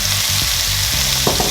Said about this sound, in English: The oil is very hot, so I'm gonna add all of these vegetables.